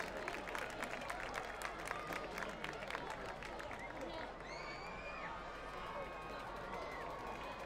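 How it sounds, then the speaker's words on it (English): A stadium crowd at a Wayne Valley vs Wayne Hills high school football game applauds and cheers for the cheerleaders, a dense roar of clapping and shouts with a few high whistles near the end. "let's have an appropriate round of applause for the Wayne Valley Indian cheerleaders"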